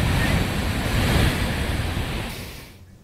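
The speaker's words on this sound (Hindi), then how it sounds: "और पानी का शोर भी सुन सकते हैं" Loud, continuous rushing of a fast river in Manali, Himachal Pradesh, during heavy rain, a broad turbulent roar that gradually fades toward the end.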